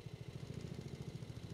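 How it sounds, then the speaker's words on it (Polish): A lawn mower attachment running in a farming video game makes a steady, pulsing mechanical drone with a regular rhythm, close and moderately loud, alone without talk. "włącz kosiarkę, zmień, opuść kosiarkę"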